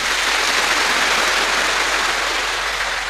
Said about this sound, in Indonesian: Kita tepuk tangan untuk mereka.